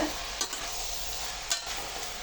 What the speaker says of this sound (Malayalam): കുമ്പളങ്ങയും കൂടെ ആ കൂടെ ഇട്ട് നമ്മൾ വഴറ്റുവാണ്